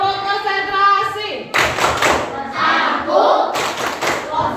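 A classroom of students performs the rhythmic 'tepuk konsentrasi' clapping routine, loud bursts of group claps and thumps in patterned beats, with chanting voices mixed in.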